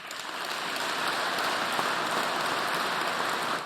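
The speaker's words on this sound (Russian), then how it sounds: "И здесь были самые долгие аплодисменты." Long, sustained applause fills a hall during the Tatarstan president's annual address to the State Council, a dense, steady wash of clapping at even loudness throughout with no voices.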